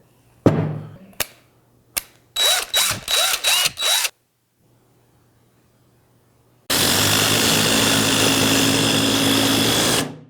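DeWalt brushed and brushless cordless drills run under test: a few short on-off bursts and rapid pulsing trigger blips, then a gap, then a long steady loud whirring run near the end.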